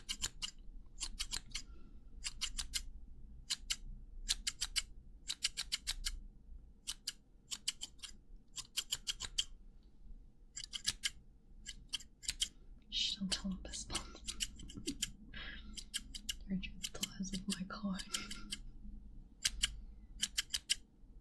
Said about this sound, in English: What is that painful sound? Scissors.